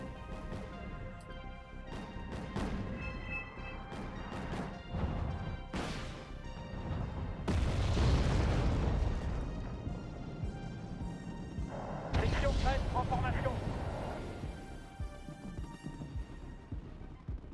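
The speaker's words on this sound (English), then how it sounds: "I am getting hit by a lot of mortars" Mortar shells exploding in the Wargame Red Dragon strategy game, a string of heavy crashes and booming impacts with rumbling low aftermath, two big blasts standing out midway amid steady battle noise.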